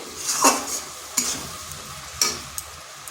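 A spoon stirs a thickening raw papaya mixture for sweet laddoos in a pan over medium heat. A few close scraping strokes come over a soft sizzle, with no talking.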